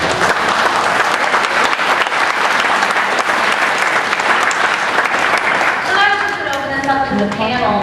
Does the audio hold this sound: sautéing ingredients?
no